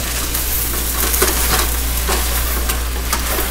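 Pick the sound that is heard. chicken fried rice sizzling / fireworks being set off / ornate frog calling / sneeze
chicken fried rice sizzling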